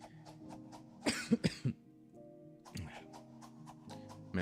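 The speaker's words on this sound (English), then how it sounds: "I've been just really coughing a lot recently." A person coughs a few times in a tight burst near the middle, close and clear, with soft ticking clicks and quiet background tones around it.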